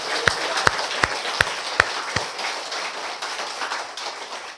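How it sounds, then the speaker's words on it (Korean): Church congregation applauding at a first-anniversary thanksgiving service, a few sharp claps at first, then a steady moderate wash of clapping from a room of people. "그 하나님께 영광과 감사의 박수를 한번 올려드리도록 하겠습니다."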